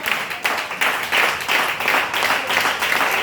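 A church congregation at a Sunday service applauds in steady rhythmic clapping, moderately loud and continuous throughout.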